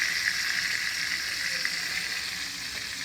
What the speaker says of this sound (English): And these are butter beans. Yep. Giving them a good stir.